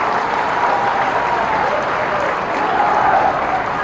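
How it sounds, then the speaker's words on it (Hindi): A crowd at a political rally applauds for Scindia, dense steady clapping from many hands lasting the whole stretch, loud and even. "सिंधिया जी के लिए एक बार फिर से ताली बजाओ"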